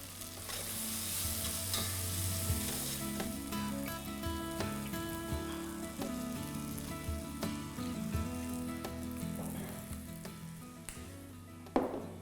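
Masala sizzles steadily in hot oil while being stirred, for a paneer, cashew and makhana curry; a dense, continuous frying crackle with scraping stir sounds throughout and no talking.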